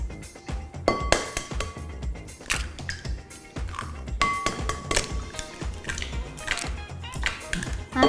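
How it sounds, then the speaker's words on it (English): Eggs cracked one after another into a mixing bowl holding milk and heavy cream, giving light taps and clinks against the bowl's rim with small splashes amid kitchen handling noise. "Now, you're going to crack in all your eggs."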